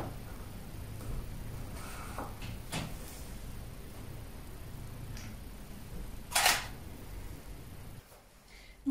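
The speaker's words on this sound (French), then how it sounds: "Je vais d'abord faire une photo bien comme il faut sur Madeleine" A camera shutter clicks several times while photographing product bottles in a quiet indoor setup, with a sharp, close click standing out among fainter handling sounds.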